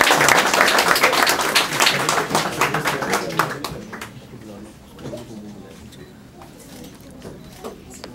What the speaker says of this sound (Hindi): आप इनके लिए भरपूर तालियां बजाइए